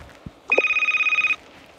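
A telephone rings once with a steady electronic trill lasting just under a second, close and clear, after a brief soft knock.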